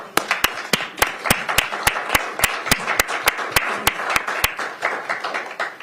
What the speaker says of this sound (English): I think we owe a round of applause for the members that are here and the community involved.